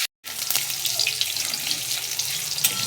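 Dried red and green chilies hit hot oil already tempered with black cumin, giving a steady close hiss and crackle of sizzling that runs unbroken after a brief silent gap at the start.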